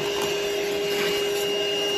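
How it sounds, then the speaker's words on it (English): A vacuum cleaner runs steadily at close range during a boiler cleaning, a loud constant roar with a fixed whining tone and no pauses. "Before we brush, we're going to vacuum."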